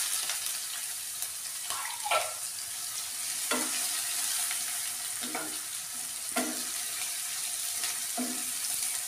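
Cumin seeds and onion sizzle in oil in a pan under a steady hiss, with a spoon scraping and stirring at regular intervals, close and fairly quiet.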